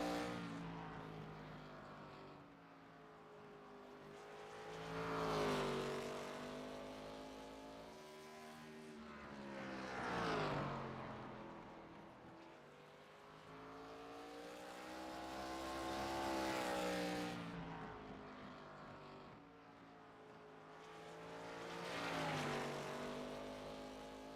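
ARCA stock car engine in a racing video game on a qualifying lap at an oval, droning steadily and swelling in regular waves as it rises through each straight and dips into the turns, alone and fairly faint.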